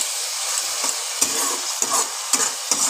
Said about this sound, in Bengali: এইবার আবার কাঁচা লঙ্কাটা দিয়ে সব মশলার সঙ্গে একসঙ্গে আবার ভালো করে কষিয়ে নিচ্ছি।